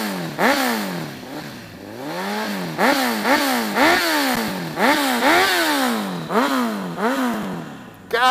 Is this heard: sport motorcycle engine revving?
yes